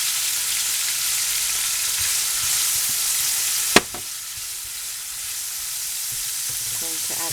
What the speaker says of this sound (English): all you're going to do is stir things around